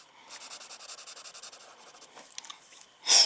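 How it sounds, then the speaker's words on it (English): A pencil shading on paper gives soft, rhythmic scratchy strokes up close, repeating quickly and evenly, then tapering before one louder rub at the end. "I'm just gonna shade in, obviously, the eye sockets and the nose holes"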